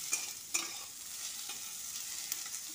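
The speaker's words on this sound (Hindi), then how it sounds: "प्याज को अच्छी तरह से ब्राउन होने तक भून लेंगे" Chopped onions frying in a pan for egg biryani, a steady soft sizzle with a few light clicks from stirring, faint and with no voices.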